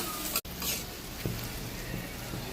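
Potatoes tossed into a pan with spices sizzle and fry steadily, with a brief sharp stir or clatter near the start and soft scraping as they are turned over the hot oil.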